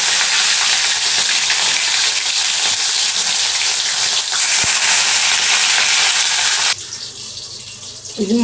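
Potatoes frying in hot oil in a pan give a loud, steady sizzle with a faint watery hiss that runs unbroken for about seven seconds, then drops abruptly to a quieter, thinner crackle.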